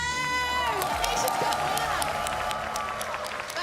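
A crowd at a GT World Series sim racing event in Montreal cheers and applauds, a steady roar of shouting and clapping with whoops rising over it.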